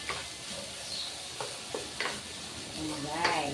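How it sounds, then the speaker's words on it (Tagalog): Chicken broth is poured into a hot frying pan, giving a soft sizzle with scattered stirring scrapes and clinks, close by, while a voice talks lightly over it. "lalagay natin yung pinakuluan dyan na yung sabaw nito. Yung sabaw ng ating chicken."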